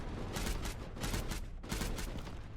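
Turrets in the game Mindustry firing steadily, a dense rapid rattle of gunfire that pulses in regular waves and holds at a constant level throughout, with no voices.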